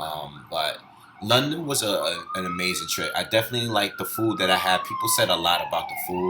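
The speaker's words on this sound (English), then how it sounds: "Sorry for the police sirens." A police car siren wails outside, its rising and falling tone drifting in the distance beneath continuous close talking.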